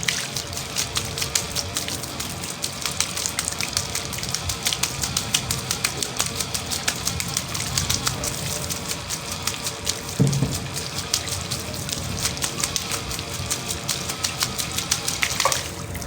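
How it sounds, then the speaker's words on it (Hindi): Water is poured into a homemade model dam, giving a steady hissing, splashing rush that runs throughout at a moderate level, with faint clicking mixed in. "तो मैं डालता हूँ फिर से पानी।"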